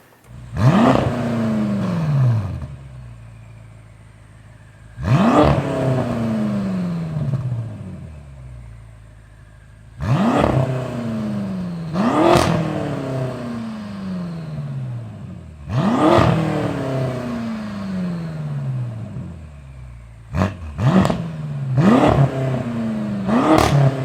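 A BMW F10 M5 engine pulls hard through repeated accelerations, each rising whine cut by sharp upshifts, about five surging bursts with quieter gaps between, close and loud with no talking.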